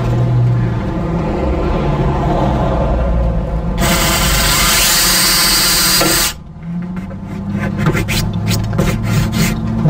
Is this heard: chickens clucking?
no